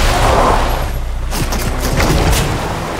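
Loud booming sniper gunshots crack out in quick succession over a dense rumbling background, sounding like rapid rifle fire in a game.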